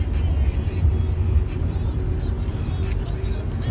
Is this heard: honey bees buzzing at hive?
no